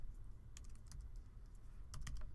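Typing on a computer keyboard to enter a file name, a quiet run of light key clicks in two short bursts, close and alone with no talk.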